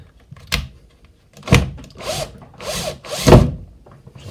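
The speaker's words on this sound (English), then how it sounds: "just removing the screws now" A power driver backs screws out of the baseboard joint of an N gauge model railway layout in a series of short, close, loud whirring bursts separated by brief pauses.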